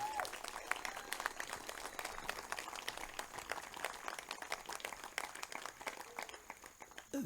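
Audience applause at a church water service honoring the tech team, a steady wash of many hands clapping at moderate distance, faint and sustained throughout without speech.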